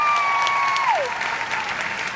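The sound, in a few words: audience applause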